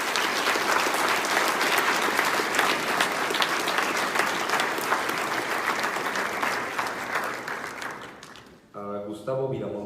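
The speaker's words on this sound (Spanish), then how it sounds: "Un aplauso, por favor." Audience applauding at a paleontology symposium, a sustained dense clatter of many hands filling the room, then cutting off near the end as a voice begins speaking.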